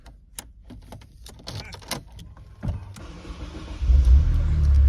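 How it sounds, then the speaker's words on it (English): A Mercedes Vaneo wheelchair-accessible van is started: keys jangle and click first, then the starter cranks and the engine catches, settling into a loud, steady idle close by. "Let's start the car up."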